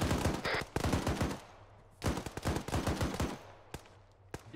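Bursts of rapid automatic gunfire in Arma 3 gameplay, two long loud volleys with a few lone shots after them, close and dominating.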